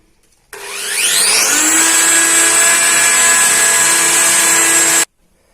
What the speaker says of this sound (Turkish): önce ince uçlu bir matkapla deliyoruz.